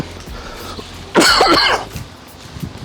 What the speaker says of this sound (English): Got another cough coming.